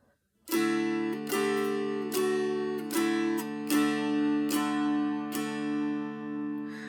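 A mountain dulcimer with a steady drone plays a simple melody, notes plucked about every 0.8 seconds and ringing on, close and clear.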